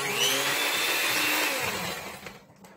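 An electric mixer runs through gluten-free, egg-free banana bread batter, a steady loud whir with a slight rising pitch that slows and fades over the final half second.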